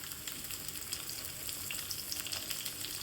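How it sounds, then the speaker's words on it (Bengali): Sliced pointed gourd (potol) frying in hot mustard oil in a pan, a steady close sizzle with soft crackles and spits throughout, no voices. "তেলটা গরম হওয়ার পরে দিয়ে দিলাম কেটে রাখা পটলগুলোকে"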